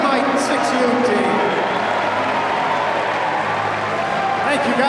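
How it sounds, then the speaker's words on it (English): A hockey arena crowd applauds and cheers steadily for a youth 6U mite team, a broad, loud, constant wash of clapping that fills the large space from start to finish. "Have a nice round of applause for the Bethlehem Yukon Mighty Mite 6U team."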